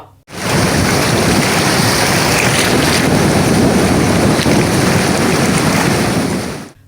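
Floodwater and heavy rain rush around a Shiva statue in a loud, unbroken roar of churning water and wind buffeting, steady from start to finish.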